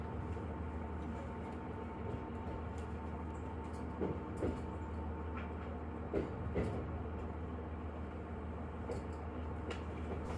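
A Kururi Line local train on a single-track line in Chiba pulls into Yokota station, a steady rolling rumble with scattered clanks and rattles of the carriages, heard from on board and without speech.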